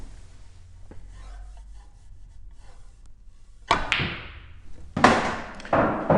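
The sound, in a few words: pool cue striking balls, medium pace stun shot double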